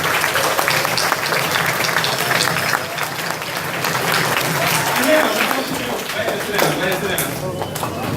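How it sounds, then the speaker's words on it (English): Group applause from men at a weekly house meeting, steady and dense across the whole stretch with some cheering and voices mixed in. "Fellas, give yourself a round of applause for our work at today."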